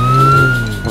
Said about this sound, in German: das ist ein Polizeiauto.